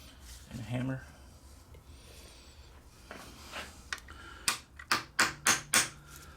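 A hammer taps a pin out of a Winchester 140/1400 shotgun, five sharp metallic strikes in an even rhythm close by, with a few lighter clicks and handling noises before them.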